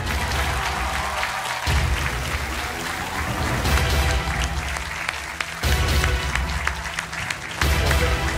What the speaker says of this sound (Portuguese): O vosso aplauso para o João Brito.